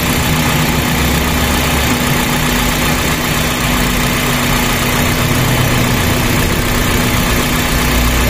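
A loud Toyota engine idles steadily nearby after a radiator and engine block flush, a constant rumbling drone with no change in speed.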